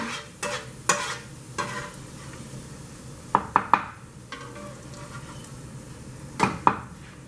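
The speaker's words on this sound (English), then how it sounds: "And it's going to sizzle fast." Shrimp and salmon sizzling in a hot pan under a constant hiss, punctuated by clinks and scrapes of a utensil against the pan.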